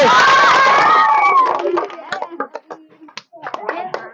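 An audience claps loudly and cheers for a contestant in a ball-blowing food challenge game. A dense wash of applause fades after about a second and a half into scattered claps and snaps mixed with children's talk.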